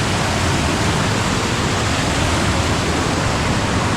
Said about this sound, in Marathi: हा बघा पाणी मस्तपैकी येत आहे